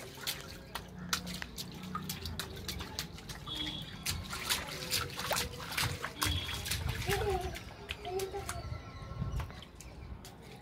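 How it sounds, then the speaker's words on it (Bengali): Water splashes and drips nearby as a child plays with water from a tap, with irregular spatters and trickles, light bird-like chirps, and a voice speaking at times over it. "জল ছেড়ে দিলাম"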